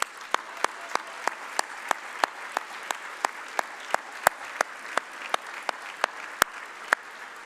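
Audience applause at a Texas policy summit keynote lunch, steady sharp claps ringing out in a fairly sparse, rhythmic pattern, moderately close and continuing without talk.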